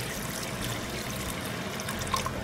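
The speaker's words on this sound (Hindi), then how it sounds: "अच्छा खासा पानी डालना पड़ेगा" Water poured into a pot of cooking meat, a steady continuous splashing rush at moderate volume with no talking.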